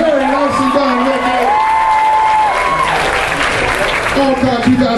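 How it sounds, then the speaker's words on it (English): Audience applause and cheering after an entry on a costume contest runway at a convention, steady clapping from a crowd with whoops, while a voice talks over it. "Another round of applause for Nikki."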